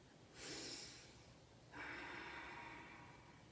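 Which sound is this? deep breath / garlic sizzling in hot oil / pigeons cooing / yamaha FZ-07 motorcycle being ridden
deep breath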